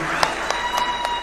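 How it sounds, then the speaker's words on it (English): Audience applause for the President at State House in Kenya during a Tax Day event, a steady crowd clapping with a few distinct claps standing out, brief and continuous. "Another round of applause for His Excellency."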